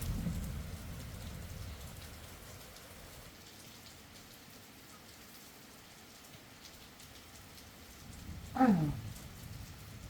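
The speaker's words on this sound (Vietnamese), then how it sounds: "Nắng trong là mưa chứ." Steady rain patters outdoors with a low rumble of thunder underneath, a constant wash of sound, while a brief, sharper, rising sound cuts through near the end.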